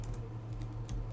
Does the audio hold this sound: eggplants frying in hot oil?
no